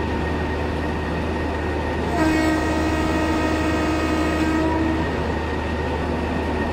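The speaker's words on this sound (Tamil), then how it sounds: "கைஸ் ட்ரெயின் வந்து 140 தொட போகுது" Shatabdi Express train racing at full speed in Train Simulator, with a steady loud rumble of rolling wheels and a sustained whistle-like horn tone lasting several seconds in the middle.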